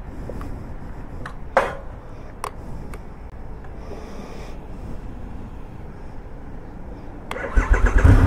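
A Triumph Rocket 3 GT motorcycle sits quietly with a few scattered clicks before its engine cranks and fires near the end, bursting into a loud, close, rumbling start.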